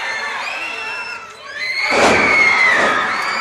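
Wrestling arena crowd cheering for Terry Taylor, a loud sustained roar that swells sharply partway through with shouts and whistles rising above the din.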